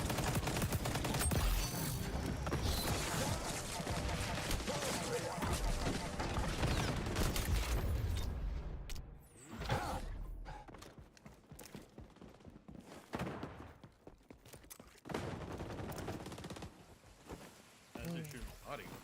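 Rapid gunfire in a first-person shooter match, with dense bursts of shots and mechanical clatter, loud and continuous at first, then sparser shots and clicks beneath excited talking from players.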